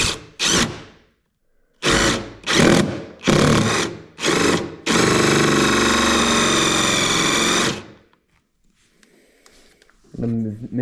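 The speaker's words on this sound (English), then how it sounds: "take our 1-inch drill bit to drill the guide hole for the jigsaw" A power drill with a 1-inch bit whirs in several short bursts, then runs steadily for a few seconds drilling a jigsaw guide hole in a mini bass boat build before stopping; a faint voice follows.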